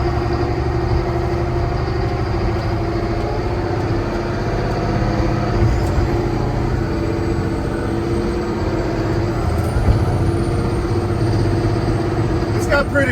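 An M1078 LMTV military truck accelerates from inside the cab, its diesel engine a loud, steady drone with layered harmonics, a few brief clunks and squeaks on top and faint talk underneath.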